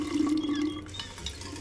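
Tap water runs in the game We Happy Few, a steady, close pouring stream into a basin lasting a couple of seconds with slight splashing.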